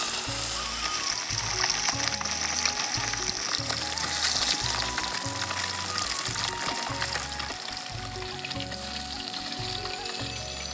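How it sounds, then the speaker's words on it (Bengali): Rohu fish frying in hot oil in a wok, giving a steady bright sizzle and crackle that runs the whole time, close and fairly loud, with a low rhythmic hum underneath. "এখন আমি তেল দিয়ে দেবো, মাছটা ভাজবো।"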